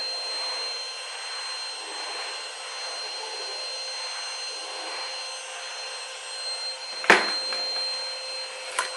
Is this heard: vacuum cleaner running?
yes